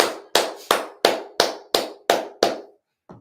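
Eight slow, evenly spaced hand claps ring out in a reverberant Sabbath service hall, each sharp strike trailing off, followed after a pause by one faint softer clap.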